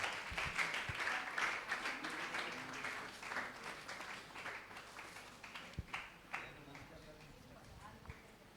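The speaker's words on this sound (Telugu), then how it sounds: "అందరూ చప్పట్లు కొట్టండి" A church congregation at a ministerial anniversary service claps at a moderate distance, a sustained patter of applause that gradually thins out, with a voice speaking over it.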